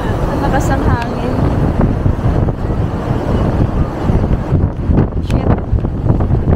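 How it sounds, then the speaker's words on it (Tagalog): Loud gusting wind on a snowy day in South Korea buffets the microphone with a heavy low rumble while people talk over it. "Ang lakas ang hangin."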